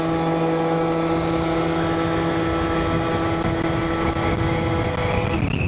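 Stage6-tuned Yamaha BWS 70 scooter engine revving near quarter throttle while still cold and running slightly rich, a loud steady buzzing drone held throughout with pitch creeping upward near the end.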